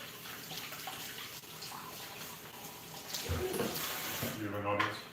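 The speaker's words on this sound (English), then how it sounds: "Right, I'm gonna rinse this too." Food being rinsed under a running kitchen tap, a soft continuous rush of water that grows louder toward the end, with voices talking quietly over it.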